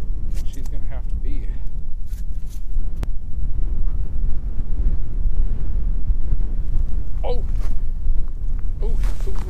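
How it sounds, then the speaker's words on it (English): Wind buffets the microphone on a fishing boat out on open water, a steady low rumble running the whole time with brief higher chirps and a few bumps along the way. "that's also the direction the wind is coming from"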